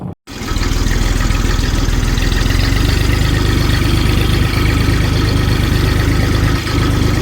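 A farm tractor idles loudly and steadily close by, its engine holding an even, throbbing rumble for several seconds after a brief start, with no talking over it.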